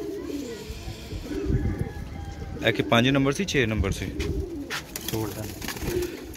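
Pigeons kept by a fancier in Pakistan, cooing softly in repeated throaty rolls close by, with someone talking steadily over and between the calls.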